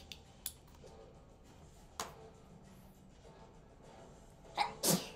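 A sneeze bursts out near the end, a loud sharp double-peaked blast rising over quiet room noise during Xbox gameplay of Monster Jam Steel Titans, with a few faint clicks earlier.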